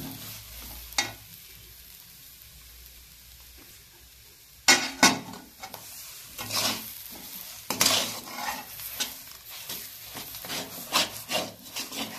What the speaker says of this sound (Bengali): কড়াতে লেড়ে নেব।